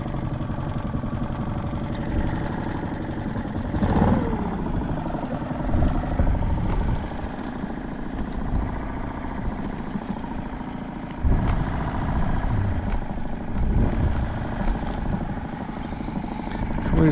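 Small outboard motor on a boat on a wild river, running in a steady low drone that swells now and then, with someone talking over it.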